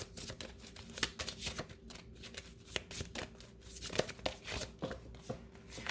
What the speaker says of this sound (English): I'll do one more shuffle